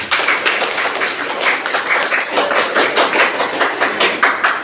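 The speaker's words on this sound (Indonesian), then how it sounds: "Tepuk tangan semua." Students in a classroom clap together in a fairly loud, rhythmic burst, the claps falling in a roughly regular beat for a few seconds.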